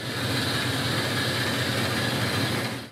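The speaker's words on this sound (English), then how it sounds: "Next, I drill a hole in the center." Drill boring a hole into the center of a turned oak piece, a steady loud grinding drone close by, continuous throughout with no voices.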